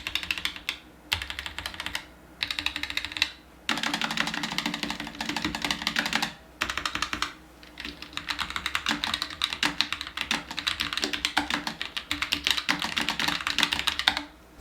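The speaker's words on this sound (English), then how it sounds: "here's a quick typing test for y'all to hear what the keyboard actually sounds like" Typing on a Roccat Vulcan TKL Pro tenkeyless keyboard with red Titan switches: a close, steady flurry of crisp key clicks in bursts separated by short pauses.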